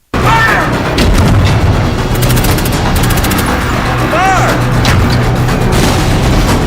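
Gunfire in an Indian action film scene with a pilot and lieutenant: loud, dense bursts and booms fill the whole stretch, with shouting voices cutting through the barrage.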